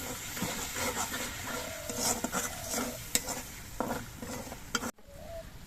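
Spices with a little water sizzle and are stirred in a pan for the Bengali dish doi potol, a steady close crackle with scraping stir strokes and a brief clatter near the end.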